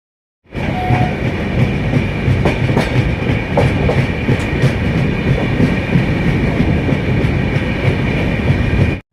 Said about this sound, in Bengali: ট্রেন এখন নাসিক রোড পৌঁছে নাসিক রোডে হল্ট ছিল তো এবং নাসিক রোড থেকে এখন ছেড়ে বেরিয়ে যাচ্ছে